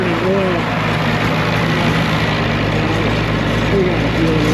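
Steady low rumble of an Allis Chalmers 190XT tractor engine idling, an oil-burning engine with a suspected fuel delivery fault, running loud and constant for the whole stretch.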